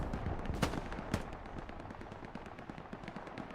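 Rapid, overlapping blasts from a Katyusha rocket artillery barrage in Hell Let Loose on the Kharkov map, a dense rolling rumble of gunfire-like bursts with two sharp louder cracks early on, continuous throughout without any talk.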